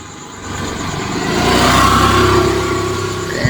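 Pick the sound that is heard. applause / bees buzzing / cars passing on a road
cars passing on a road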